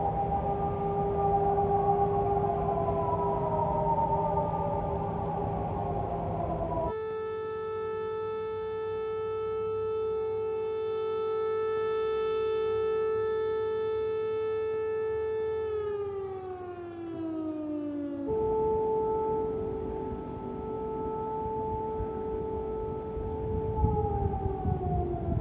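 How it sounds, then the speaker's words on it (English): Air raid sirens in Ukraine wail across open country, loud and sustained. Their pitch rises and falls as the tones overlap and echo, with long held notes gliding down before the wail resumes. "These are real recordings of air raid sirens echoing across Ukrainian landscapes."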